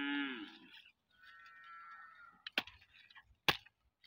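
A cow in a Kenyan village being fed chopped banana stalks lets out a short low moo, followed by a quieter drawn call and a few sharp cracks of stalks breaking, nearby.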